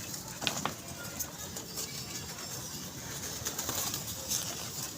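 Pigeons at a pigeon club giving soft, intermittent coos and brief chirps against a faint, steady background hum, with no voices.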